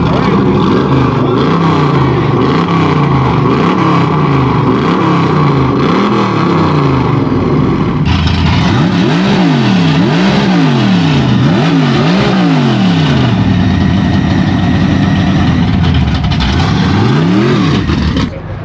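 A souped-up hot rod engine revs hard at a loud car show in Alberta, starting with a steady rumbling idle, then loud rising and falling blips close by, with crowd noise and voices around.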